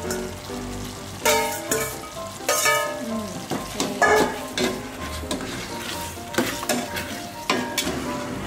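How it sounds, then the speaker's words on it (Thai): Coconut milk for Thai green curry with fish balls, simmering and being stirred in a pot: steady close bubbling and sizzling broken by repeated scrapes and clinks of a utensil against the pot. "เห็นไหมคะตัวกะทิเราเริ่มแตกมาแล้วนะพอเราเคี่ยวไปเรื่อยๆอ่ะ"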